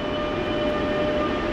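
A steady, loud rumble with a tonal whine comes from a metro train passing close by at the Benimaclet station, continuous and unbroken.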